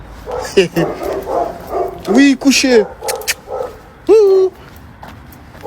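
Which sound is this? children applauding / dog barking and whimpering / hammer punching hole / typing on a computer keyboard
dog barking and whimpering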